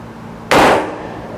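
A single M16 rifle shot at a steel target plate: one loud, sharp crack that bursts out suddenly, then decays over a short ringing tail before the background settles.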